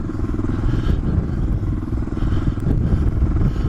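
Suzuki DR650 motorcycle pushing through soft sand on a desert track, a loud close engine drone with constant rumble and clattering under the rider, no talk over it.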